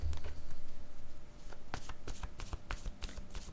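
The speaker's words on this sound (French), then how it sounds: "Je vais demander une autre carte." A card is drawn and shuffled from a deck in a close, clear run of rapid papery riffles and flicks, with a soft low thump early on.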